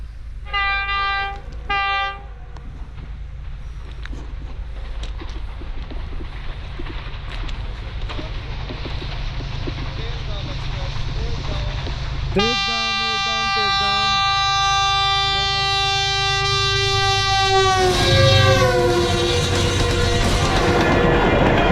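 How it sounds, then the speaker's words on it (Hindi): The 8 Down Tezgam of Pakistan Railways passes Kaluwal station with a constant heavy rumble. A brief horn toot comes early, and a long, loud multi-tone horn blast follows near the end, with a voice talking over it. "रावलपिंडी से 8 डाउन तेज़गाम अभी यहाँ से गुजरेगी।"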